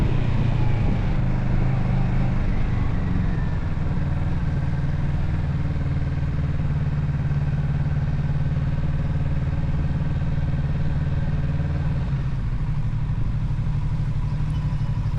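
A 2024 Kawasaki Z650RS motorcycle rolls into a gas station at low speed, its engine giving a steady close rumble that eases slightly toward the end, with no voices.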